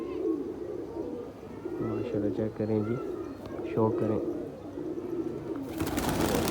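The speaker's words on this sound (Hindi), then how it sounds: "कबूतर ऐसे आता है जैसे अभी उड़ा है और अभी बैठ जाएगा" Pigeons in a loft after dark coo in several low, repeated bursts close by, mixed with wing rustles and shuffling, while a person talks over them throughout.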